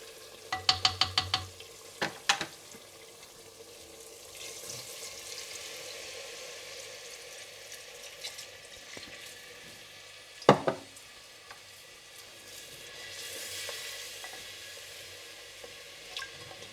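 Mutton sizzles as it fries in a pot for mutton kunna, with a few sharp metal clanks of stirring near the start and one more midway over a steady soft crackle.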